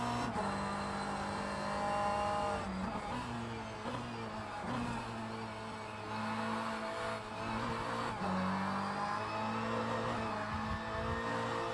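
Race car engine in the Le Mans Ultimate racing game, a steady loud drone with rising and falling pitch as it revs through gears, continuous and close with no talk.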